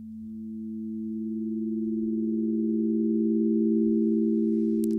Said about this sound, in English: so that we get this really long swelling sound